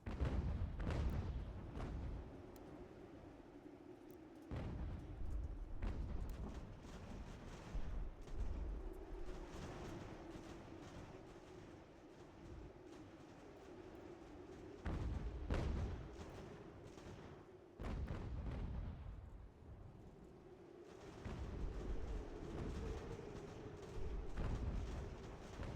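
Battle sounds from the Ultimate General: American Revolution strategy game: repeated rumbling artillery blasts and musket gunfire rolling through the whole stretch, dense and continuous with brief lulls.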